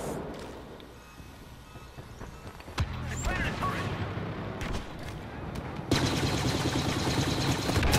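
Blaster fire in Star Wars Battlefront, with dense bursts of shots and booming impacts amid a busy battle soundscape that grows louder toward the end, with no talk over it.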